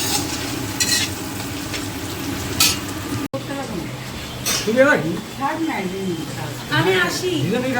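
Meat sizzles and frays in a pan while being stirred in a home kitchen, a steady fry with scraping stirs, and someone talks over it throughout.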